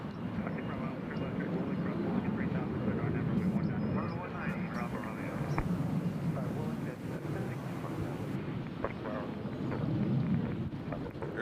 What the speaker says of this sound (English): Air Canada Jazz landing on the other side.